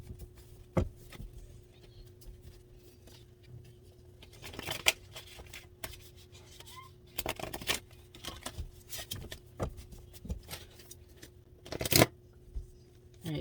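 Cards being shuffled in repeated crisp riffling bursts and soft slaps, close up over a faint steady hum, no talking.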